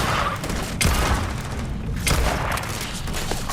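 Gunfire in Starfield sounds as dense, booming bursts over a constant rumbling background, with two sharper thumps standing out against the steady din and no talking.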